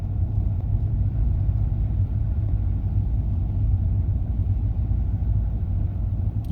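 Cars passing on a road covered in melting snow and slush, heard as a constant low, heavy rumble of engines and tyres, steady and fairly loud with no voices.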